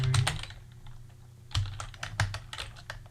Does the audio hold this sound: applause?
no